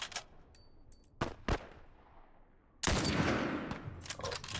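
Gunfire in The Last of Us Remastered, a few sharp separate shots early on, then a louder, sustained burst of rapid firing near the end, with quiet gaps between.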